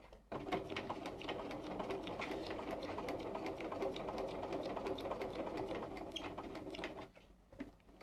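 A Bernina 335 sewing machine stitches curves with a fast, steady needle rattle at low volume, running continuously for several seconds before stopping.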